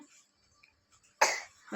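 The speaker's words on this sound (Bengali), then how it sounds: "আর কাশি তো হয়েই যাচ্ছে, কন্টিনিউ কেসেই যাচ্ছে" A child with a cold and runny nose coughs once in a sharp, close burst after quiet, and a second cough begins just as the sound ends.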